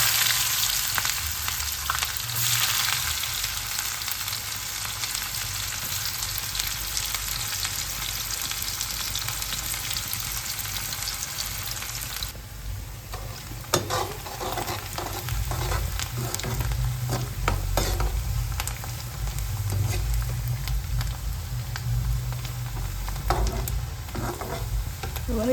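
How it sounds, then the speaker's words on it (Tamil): A handful of onions sizzles and fries in oil in a pan for jackfruit curry, a steady close crackle with periodic stirring scrapes and louder bursts as the pieces are moved. "வெங்காயம் போட்டுக்கலாம் கைப்பிடி அளவு."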